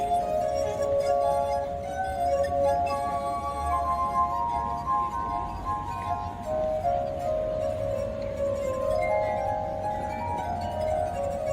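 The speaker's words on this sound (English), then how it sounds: "This is the sound of water glasses." Tuned water glasses played melodically, sustained ringing tones shifting pitch in a slow tune, clear and steady throughout with no voices.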